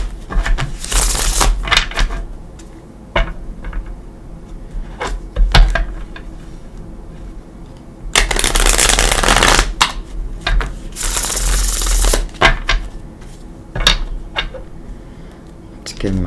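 A Gilded Tarot deck is shuffled in several bursts of riffling, flapping card noise between quieter stretches of handling and small clicks, close and fairly loud.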